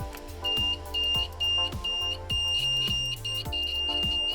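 A portable audio polarity tester emits a repeated high-pitched electronic beep in a steady on-off pattern, each pulse lasting about half a second, with a low thumping pulse running underneath.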